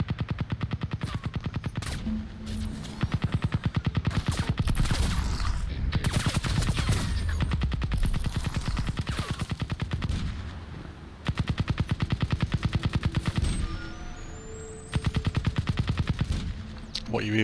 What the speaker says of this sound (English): What are you even firing at?